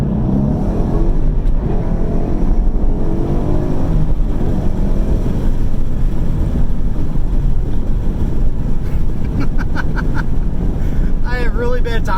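A 2021 Ford Mustang GT accelerates hard in first gear on the road, a loud roaring engine and buffeting wind-like noise filling the cabin throughout, with someone speaking briefly near the end.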